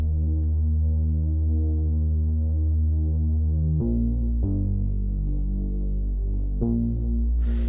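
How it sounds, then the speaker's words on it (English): A Sylenth synth bass plays alone, with a deep sustained tone moving through a few simple note changes and no other sounds. "I got this from Sylenth, but essentially the bass by itself sounds like this."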